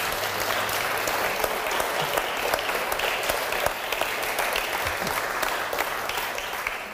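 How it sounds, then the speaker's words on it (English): Sustained applause from a sizable university lecture audience, dense steady clapping that holds at a constant level for the whole stretch with no voices standing out. "At this stage, applause is a waste of time."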